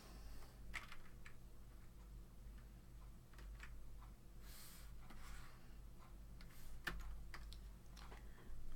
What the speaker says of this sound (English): Sorry, my keyboard's playing up again.